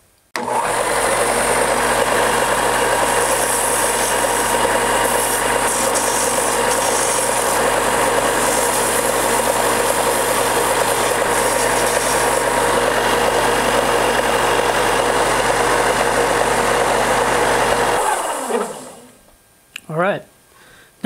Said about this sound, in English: Now I can go to the sander and refine the shape just a little bit.